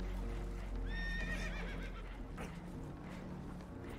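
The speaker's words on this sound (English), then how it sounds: "Horses are spooked." Spooked horses in Red Dead Redemption 2 let out a shrill, wavering neigh over a rumbling background with faint hoof clatter, the whinny rising loud and close before fading.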